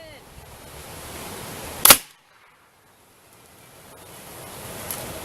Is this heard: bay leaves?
no